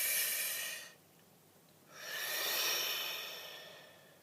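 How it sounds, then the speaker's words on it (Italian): A long, deep breath drawn in during a guided meditation: an airy inhale, a brief pause, then an even, sustained exhale, close and alone with no talk. "un bel respiro profondo"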